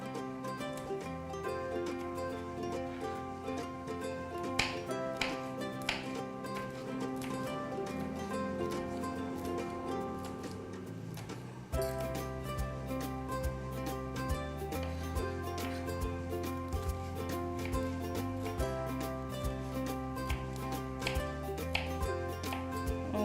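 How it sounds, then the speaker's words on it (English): A knife chops green chilies rapidly and rhythmically against a cutting board, steady taps throughout, with music playing in the background. "I'm just holding 2 to 3 together and just chopping them"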